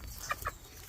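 A gamefowl hen gives two quick, faint clucks close together in a quiet farmyard setting, brief and soft against low background noise.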